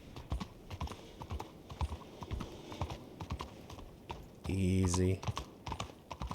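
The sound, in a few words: horse hooves while riding, from video game Red Dead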